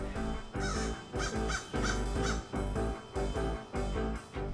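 A group of crows caws harshly and repeatedly while mobbing a kestrel that clutches a mouse, the calls loud, close and dense with overlapping rhythmic bursts.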